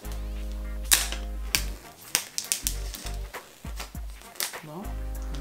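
An iPhone XS Max box being handled and opened, with a string of sharp clicks, snaps and scraping cardboard sounds at irregular intervals over a steady low hum, close to the microphone.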